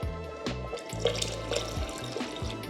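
Water pours into a soup pot of lasagna soup, a steady splashing trickle of liquid hitting the pot, close and moderately loud with no one talking.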